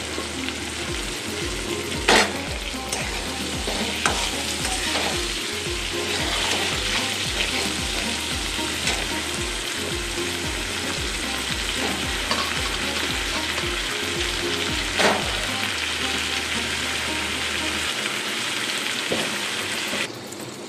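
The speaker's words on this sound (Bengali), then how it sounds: "এবার কুমড়োগুলো এর সঙ্গে দিয়ে দিচ্ছি, কুমড়োগুলো ভেজে নেব।" Steady sizzling of pumpkin pieces frying in hot oil, continuous and close, with occasional clinks and scrapes of stirring.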